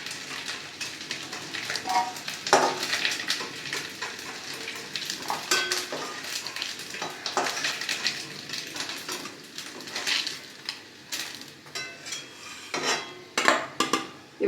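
Fried prawns lifted out of hot oil in a pan for a Bengali prawn and taro dish: steady close sizzling with scraping, stirring and clinking of a metal utensil against the pan.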